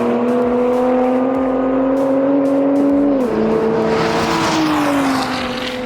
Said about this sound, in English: Let's see what this Supra's got.